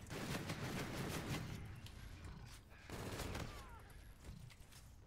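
Dense bursts of video game gunfire from a strange gun, loud rapid volleys with brief gaps, close and continuous through most of the stretch.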